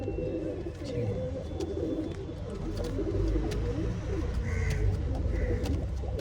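Pigeons coo and call at a pigeon sale in Bangalore, soft repeated throaty calls over a murmuring background with a few sharper bird cries, no clear talk.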